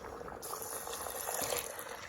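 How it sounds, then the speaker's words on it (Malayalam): Water pours into a pot of rice with green chillies and coriander for chicken rice, a continuous close rushing and gurgling fill that stays even throughout. "ഇതിലേക്ക് നമുക്ക് വെള്ളം ഒഴിക്കണത്"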